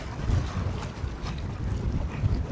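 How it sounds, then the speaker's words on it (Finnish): Strong, steady wind blowing across open water in northern Norway, roaring continuously and buffeting the microphone, with a faint wash of waves underneath. "Tuuli on vaan yltynyt eilisestä."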